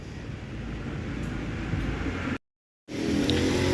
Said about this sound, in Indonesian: Ini bus M Trans teman-teman, 1A dari Trenggalek ini.